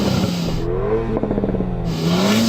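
A sports car engine revs loudly, its pitch climbing and falling through a couple of bursts, close up and with no voices.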